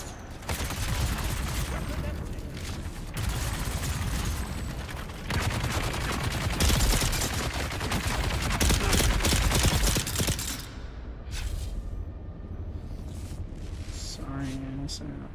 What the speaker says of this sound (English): Who's there shooting?